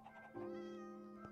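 Cat meowing in Minecraft, a single drawn-out tonal meow that swells in and holds steady, close and clear with no talk over it.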